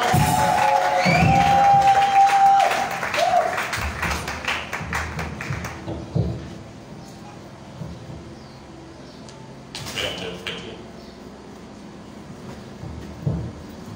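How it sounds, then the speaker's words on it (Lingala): A church congregation cheering and shouting for joy, a loud, dense burst of crowd noise for about six seconds that then drops to quieter room murmur with a short renewed swell partway through. "acclamer fortement le Seigneur et pousser le cri de joie"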